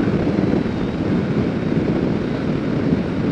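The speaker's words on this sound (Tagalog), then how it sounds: "Medyo malamig yung hangin" Cool early-morning wind rushes past during a motorcycle ride in Ilocos Norte, a loud, steady, unbroken roar buffeting the microphone with no speech.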